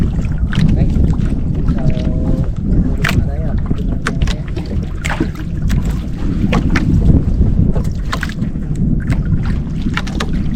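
A small fishing boat's engine runs on the open sea, a steady drone blended with wind buffeting and clattering knocks, with faint voices now and then.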